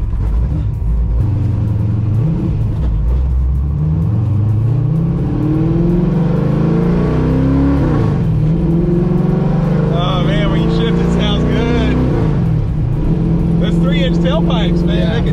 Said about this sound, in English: this is the best sounding X-Pipe I've ever heard